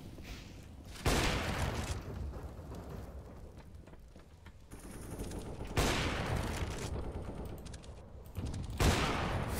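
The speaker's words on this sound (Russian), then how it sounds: "Да я же по тебе выстрелил" Bursts of video game gunfire ring out in loud, sharp volleys, several heavy shots spaced a few seconds apart over a rumbling, noisy game background with no talking.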